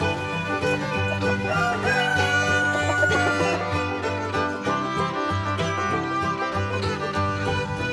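Free-range laying hens and a rooster fill the air with continuous clucking and calls, a rooster crowing among them, loud and close with a busy outdoor bed behind.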